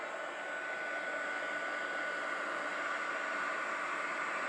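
Heat tool blowing hot air onto a fun foam stamp for a mixed media fleur-de-lis design, a steady close whooshing roar that holds constant throughout with no talk.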